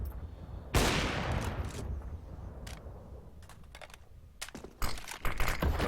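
Counter-Strike gunfire as players spray through smoke at close range in a pro match: a sharp burst opens, followed by rapid crackling volleys of shots, loud and close, with no talk over them.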